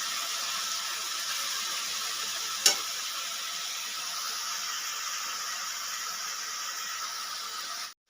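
Onions sizzling in a hot pan for baingan bharta, a steady close hiss of frying with a single sharp tick midway, no talking.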